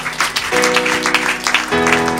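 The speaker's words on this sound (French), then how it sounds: "On acclame pour le Seigneur" Applause and acclamation during a church program: a short burst of clapping and cheering from a congregation, overlapping with sustained music tones.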